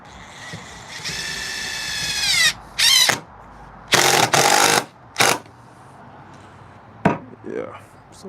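Power drill driving screws into coffee table legs, with several short whirring bursts separated by pauses and a longer rising whine near the start, loud and close.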